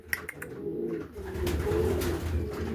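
Racing pigeons coo softly in a loft, a low, steady, close cooing with a few brief wing or chirp sounds near the start.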